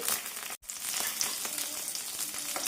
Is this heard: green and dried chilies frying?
yes